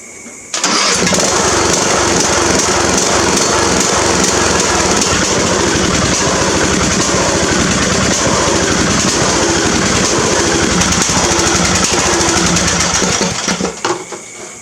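A lawn mower engine, fired up with the solenoid jumped, catches almost at once and runs loud and rough at a steady idle for over ten seconds before cutting off, close by with no talking.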